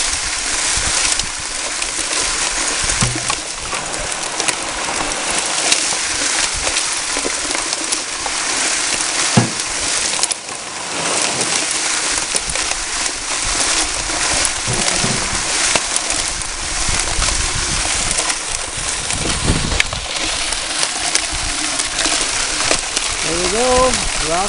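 A DIY bucket trommel clay-buster wash plant prototype tumbles and washes rocks with a steady, dense rushing and rattling wash that runs throughout, with a voice talking and birds cooing faintly in the background.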